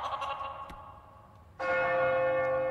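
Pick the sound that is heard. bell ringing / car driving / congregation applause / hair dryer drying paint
bell ringing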